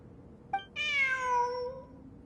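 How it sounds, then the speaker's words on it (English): A cat in Genshin Impact gives a single clear, drawn-out meow preceded by a brief chirp, close and alone over a quiet background. "Look! A cat!"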